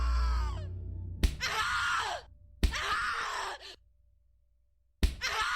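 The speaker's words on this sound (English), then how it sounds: "Scream louder, little bitch! Scream your lungs out!" A woman screams in the horror video game The Cat Lady: three long, loud, anguished screams separated by silences, the last one cut off at the end.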